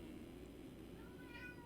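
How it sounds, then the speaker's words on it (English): A house cat meows at an office door, a faint, brief cry over a steady background hum. "My cat is going ballistic on my office door"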